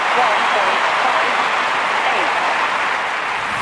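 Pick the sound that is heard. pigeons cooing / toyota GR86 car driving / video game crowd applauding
video game crowd applauding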